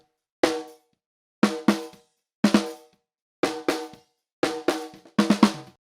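Out-of-phase snare drum struck alone about nine times, some hits in quick pairs, each with a thin, hollow, papery crack that dies away quickly.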